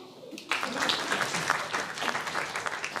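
An audience at a Chongqing-dialect crosstalk comedy show bursts into applause after a brief quiet moment, with dense, steady clapping filling the room to the end.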